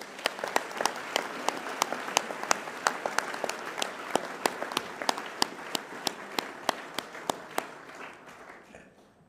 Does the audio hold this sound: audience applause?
yes